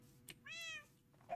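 A single short, quiet meow from a cat in a Minecraft-style video game, heard alone against faint background hiss.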